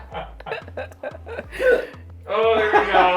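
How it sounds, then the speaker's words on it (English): A man hiccuping repeatedly, sharp voiced gulps at a fairly steady pace, close by, followed by laughter from others nearby. "He's already hiccuping."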